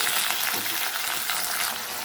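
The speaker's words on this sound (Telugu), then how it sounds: "వెల్లుల్లి కరివేపాకు కొంచెం తాలింపు గింజలు వేగిపోయాయి కదా ఇప్పుడు వేసేసుకుందామండి చిక్కుళ్ళు" Flat beans go into a pan of frying garlic, curry leaves and seasoning seeds, making a dense, loud, steady sizzle with faint stirring noises and no voices.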